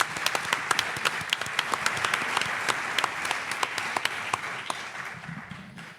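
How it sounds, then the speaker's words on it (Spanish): Audience applause at a mystery-themed conference event in Zamora, a steady crowd of clapping hands lasting the full stretch and tapering slightly toward the end. "Un aplauso para Marcelino Requejo."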